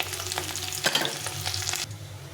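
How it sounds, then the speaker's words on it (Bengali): Broken potato pieces fry in hot oil in a kadai with a loud, dense sizzle and crackle that runs for about two seconds and then cuts off abruptly. "এই তেলে আলুগুলো একটু ভেজে দিই"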